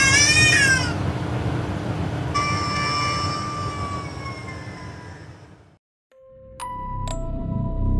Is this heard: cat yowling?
yes